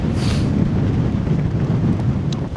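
Strong wind of 60 mph plus batters a Hilleberg Soulo tent, a continuous loud low roar with gusty buffeting against the fabric and microphone, sustained throughout with no voices.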